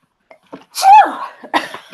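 A single loud, sudden sneeze up close, with a short vocal sound right after it.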